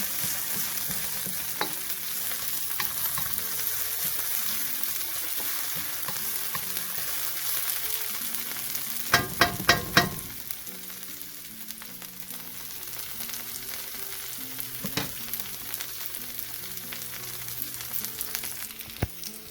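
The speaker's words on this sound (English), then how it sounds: "the garlic is actually burning a little bit" Garlic frying and starting to burn in a pan, a steady close sizzle with intermittent stirring clatter, a cluster of sharp scrapes midway and another knock later, no talking.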